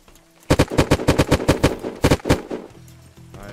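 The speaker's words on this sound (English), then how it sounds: "Oh, I'm getting shot at from behind." A loud, close burst of about a dozen evenly spaced shots from a video game shooter, followed by a quiet tail.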